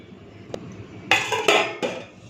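A metal lid set down on a pot of soaked peas for ghugni, giving a few close, sharp clanks and clinks in quick succession after a faint earlier tap.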